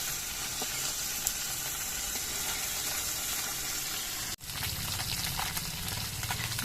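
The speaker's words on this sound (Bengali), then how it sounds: "মাছের দু পিটি আমি ভেজে নেবো আর মাছগুলো একটু কড়া করেই বাজবো" Small khoira fish frying crisp in hot oil, a close, continuous sizzle with a brief drop partway through before the crackling resumes.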